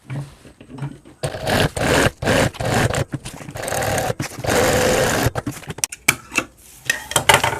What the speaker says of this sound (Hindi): अब हम हैंडल को चैन पट्टी के ऊपर सिलाई करेंगे